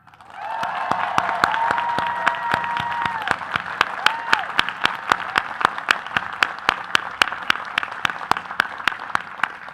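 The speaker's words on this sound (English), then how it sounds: "Let's have one last round of applause to all of our award winners." Audience applause for award winners at a law school commencement, a steady wash of clapping across the whole stretch, with sharp rhythmic claps standing out on top and a faint voice briefly audible early on.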